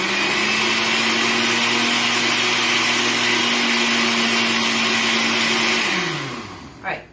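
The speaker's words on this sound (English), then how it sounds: "So go ahead and stick it on the blender and put it on" A kitchen blender on its grind setting purées a gluten-free, dairy-free condensed cream soup in a steady, loud whirring drone that runs unbroken for several seconds, then spins down and stops, followed by a short knock.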